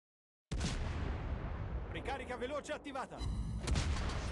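A naval gun fires in a warship battle video game. A sudden heavy boom bursts in after a moment of silence and rumbles on, while someone talks over it.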